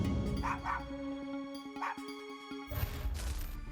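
Dogs bark and yelp in short bursts near a roadside volcanic eruption, followed by a loud rumbling crash of spewing dirt and rock.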